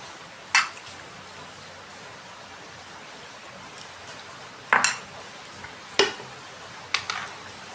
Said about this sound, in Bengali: দিয়ে এটা ভালো করে আগে মাখবো, যদি দরকার হয় আবার একটু বেসন দেব।